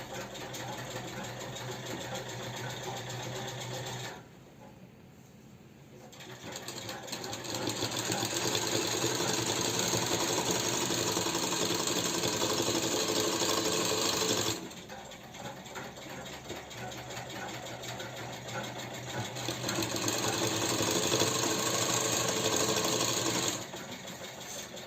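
A sewing machine stitches the side seam of a sozni suit in long, steady whirring runs up close, stopping briefly twice before starting up again.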